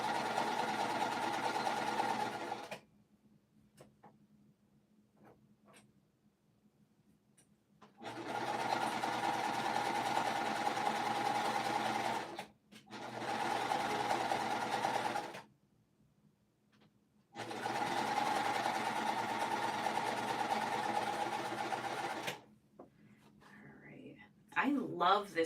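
Sewing machine stitching quilt fabric in three long runs of steady motor hum, separated by quiet pauses with small clicks, close and fairly loud, with no talk over the stitching.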